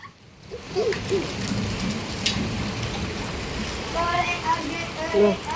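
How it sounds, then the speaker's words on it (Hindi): Heavy rain with hailstones pours down during a violent storm, a steady dense hiss of downpour with scattered sharper impacts, while people talk loudly nearby over it. "सही कहा ओले आ रहे हैं"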